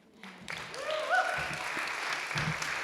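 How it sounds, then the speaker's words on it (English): An audience applauds writers at a literary reading event, the clapping swelling in after a quiet half second into a steady, moderately soft patter that fills the rest, with a brief vocal cheer rising through it early on. "One more round of applause for all of our writers."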